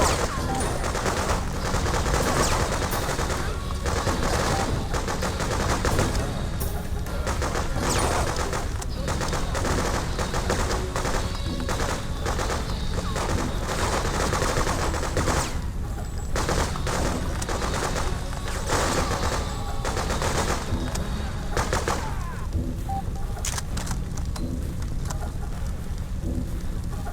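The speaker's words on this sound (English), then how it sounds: "Where's that shooting from?" Gunfire crackles continuously in the Freedom Fighters video game, set in a New York hotel in fall 2003, with dense overlapping shots and bursts mixed into a busy wash of battle noise throughout.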